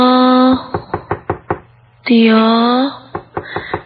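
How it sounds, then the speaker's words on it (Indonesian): Rapid hard knocks on a bedroom door at night, a burst of five or six close, loud raps, a pause, then another burst, separated by long sustained musical drone tones. "Kini terdengar suara ketukan pintu di depan kamarku."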